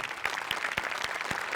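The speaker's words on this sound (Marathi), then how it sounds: "त्यामुळे एकदा दिग्दर्शकांसाठी पण टाळ्या" Studio audience clapping for the directors of a Marathi comedy show, a steady dense patter of hands with a few sharper claps standing out, sustained for the whole short stretch without voices.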